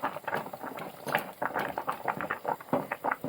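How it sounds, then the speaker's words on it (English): Nigerian amala simmering in a pot gives close, irregular bubbling and soft popping, fairly quiet, with no voices. "So now, because I've already got the texture I want, I'll leave that to boil"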